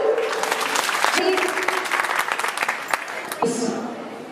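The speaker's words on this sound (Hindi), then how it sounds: "जोरदार तालियां इन सभी बच्चों के लिए।" Audience applause for a children's dance performance at a school Independence Day celebration, steady dense clapping throughout with a voice speaking over it.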